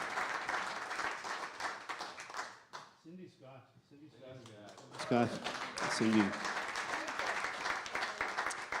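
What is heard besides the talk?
audience applause for jazz trio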